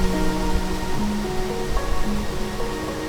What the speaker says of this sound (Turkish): adeta küçük bir nehir oluştu denizden göle doğru